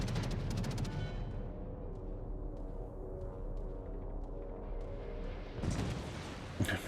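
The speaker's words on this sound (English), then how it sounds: "I'm pretty sure this New Mexico decided to take a shot at me." Heavy naval gunfire from a USN New Mexico battleship in World of Warships, a loud booming blast that rolls into a long rumbling decay, with a second burst of firing near the end.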